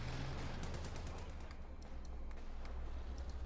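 Continuous battle din from Company of Heroes 2, with dense overlapping gunfire and explosive bursts rumbling steadily throughout, the low booms and crackle blending into one sustained wall of combat noise.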